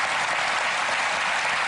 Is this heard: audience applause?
yes